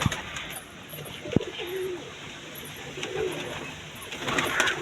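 Pigeons coo inside a coop, several low throaty calls rising and falling over a busy background of rustling, with a sharp knock early on and faint chirps near the end.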